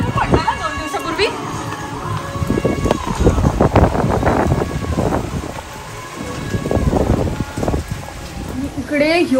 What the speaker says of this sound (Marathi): इकडे एवढा जोरात पाऊस चालू झालाय, एवढा जोरात